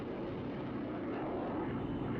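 Propeller planes at an air show over the Le Mans circuit drone steadily and loudly overhead, a continuous engine roar with no voices.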